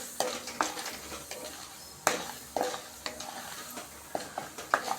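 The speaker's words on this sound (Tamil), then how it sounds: "இந்த நேரத்தில் நான் சீரகமும் ஒரு காஞ்ச மிளகாவும் ஆட் பண்ணிக்கிறேன்" Cumin seeds and a dried red chili sizzle in hot oil, a steady crackling hiss broken by sharp spoon clicks and scrapes against the pan every second or so.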